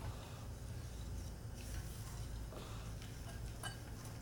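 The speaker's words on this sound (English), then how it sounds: "You just keep stirring that a little bit." A spoon stirs coconut crystals into gluten-free brownie batter in a bowl, soft gritty scraping and light ticking taps repeating at an uneven pace, quiet and close over a low background rumble.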